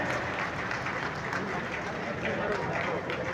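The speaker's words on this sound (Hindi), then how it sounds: "जोरदार तालियां" A crowd at a BJP Vijay Sankalp rally in Jind's new grain market claps steadily and loudly for a few seconds, with a voice talking over the applause.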